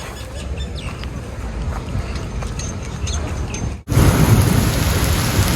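Heavy rain pours down hard with thunder rumbling, wind-driven water spraying in toward a room; the dense roar abruptly swells louder partway through and stays intense, with no voices.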